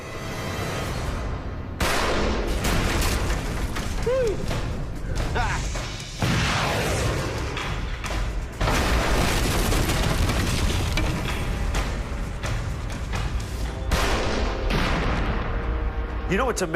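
An RPG rocket launcher fires inside a closed room, loud booming blasts with a harsh crashing roar that fills the space, several heavy bursts with brief gaps between them, and someone speaking French over parts of it.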